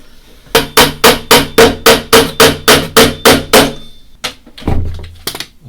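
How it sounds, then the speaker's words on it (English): Small nails are hammered into miniature 1/6 scale diorama corner walls, worked in between small clamps: eleven sharp, evenly spaced taps close up, followed by a few quieter knocks and handling noises. "It's hard to get in hammering in between all the little clamps,"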